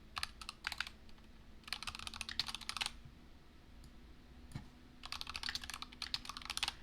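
Bursts of brisk keystrokes on a computer keyboard while code is typed, a few clattering runs broken by quiet gaps, close and clear with no talking.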